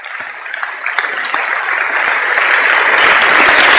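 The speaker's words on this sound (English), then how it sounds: "Could you please give these young fellas a round of applause?" Audience applause for young referees at a coaching clinic on drill work, a dense wash of many hands clapping that swells steadily louder over several seconds, without talk.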